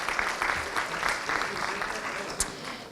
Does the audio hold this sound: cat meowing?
no